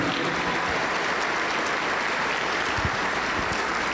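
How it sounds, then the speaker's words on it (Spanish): A Pentecostal church congregation applauding during worship, a dense, continuous wash of clapping from many hands at close range for several seconds, with no voices standing out. "Damos un fuerte aplauso para Cristo nuestro Salvador."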